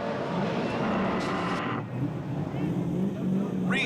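Drift cars at Formula Drift Irwindale, engines roaring at high revs with screeching tire noise close by, swelling and dipping as a car slides through a turn, with a voice talking over it.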